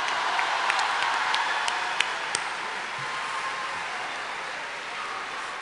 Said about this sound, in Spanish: Despedimos a Ricarte con este fuerte aplauso.